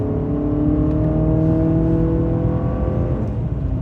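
A 2024 Honda CR-V SUV drives uphill, its engine giving a steady, loud hum with continuous low road and tire rumble throughout, no voices over it.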